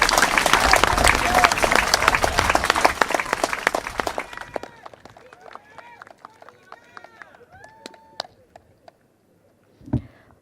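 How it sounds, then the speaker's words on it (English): Loud crowd applause at an outdoor election rally for Dr. Tan, dense at first and then breaking up into scattered claps over about four seconds. Quieter sparse sounds and a voice follow. "One more round of applause for Dr."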